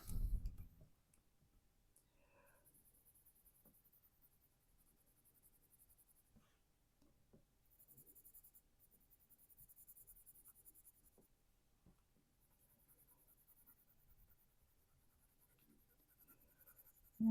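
Colored pencil coloring a red tulip on paper, faint close scratchy strokes in uneven back-and-forth bursts with soft taps, in a quiet room without talk.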